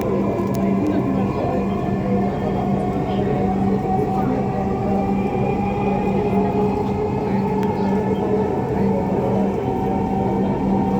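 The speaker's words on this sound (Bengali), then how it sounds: "This train is bound for Uttara North." A Dhaka MetroRail train runs with a steady low rumble and a faint whine, heard from inside the car, with a voice speaking over the ride noise.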